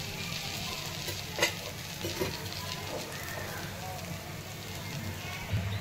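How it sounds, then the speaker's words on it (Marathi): Appe batter frying and sizzling in an appe pan as the dumplings are browned on both sides, a steady crackling hiss with occasional stirring clinks, with a voice talking over it. "छान दोन्ही साईडने भाजून घेणार आहे।"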